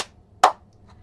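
A single sharp hand clap rings out clearly in a quiet room, preceded by the tail of another and followed by a faint softer tap.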